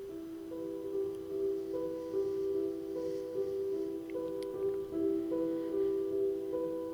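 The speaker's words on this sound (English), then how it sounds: "I found an interesting piano piece, and it sounds like this." A soft, sustained piano melody of held, ringing notes plays gently at a quiet level with faint background hiss.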